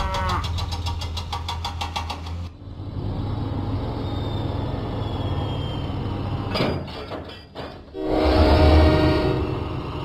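Thomas & Friends video game train sounds: a chuffing steam engine with rapid rhythmic puffs gives way to a steady rumbling run, then clanking bursts and a loud, sustained horn-like blast near the end.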